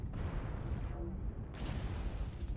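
Airstrike explosions in a mech combat video game, low rumbling booms rolling over each other, with a sharper blast cutting in partway through, all fairly quiet.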